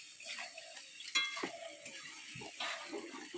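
Potatoes sizzle as they fry in a pan while being stirred, in a village kitchen, with soft crackling and a few scraping stir sounds, fairly quiet and close.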